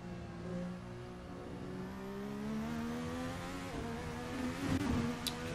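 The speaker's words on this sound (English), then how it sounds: "Down, we shift our way down through the gears here." A race car in the racing game Assetto Corsa drops down through its gears at a Grand Prix, the engine note stepping down through several falling harmonic sweeps and ending in a short blip of revs, steady and close throughout.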